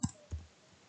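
A computer keyboard is typed on while working in MS Word, producing three sharp, close key clicks spaced irregularly in an otherwise quiet room.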